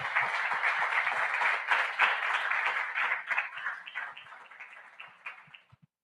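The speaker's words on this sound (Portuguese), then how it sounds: "Por isso vamos aplaudir esse Deus." A church congregation claps during a Sunday service, a dense, steady wash of applause that gradually thins into scattered claps and fades out near the end.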